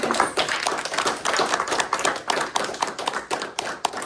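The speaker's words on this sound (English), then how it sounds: "Applaud the kiddos that played. I also want to applaud all you teachers that are here." Sustained, dense applause from an audience at a piano masterclass, with many hands clapping steadily and close for the whole stretch, without voices.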